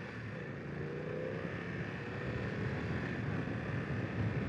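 A 2020 BMW F900XR motorcycle engine pulls under acceleration, a steady low drone that rises gradually in loudness, muffled by wind, with no voices.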